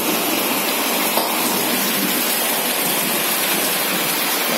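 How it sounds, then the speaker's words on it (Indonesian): Steady, heavy rain falling outdoors, a loud dense continuous hiss of downpour with no pauses or voices. "Hujan lagi."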